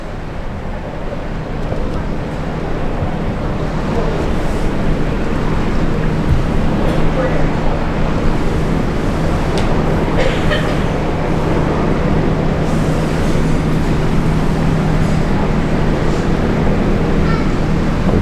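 Engines of a small local cruise boat near Juneau, Alaska drone steadily and loudly throughout, a constant low hum mixed with wind buffeting and water rush.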